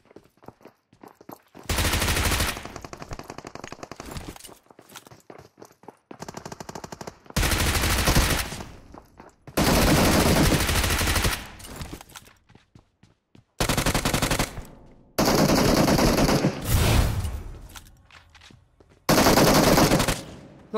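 Bursts of automatic gunfire in PUBG Mobile, loud and close, coming in separate rapid volleys with short silent gaps between them.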